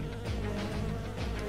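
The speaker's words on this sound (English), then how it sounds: "Bees!" Insect-like buzzing of bees in a chaotic video game, a steady droning hum filling the whole moment with wavering pitch swells, loud and close with no talking.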